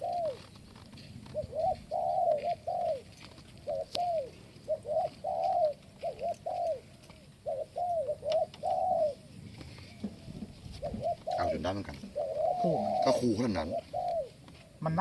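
A dove coos over and over in a steady series of soft, rounded calls, fairly close. Toward the end, people talk over it.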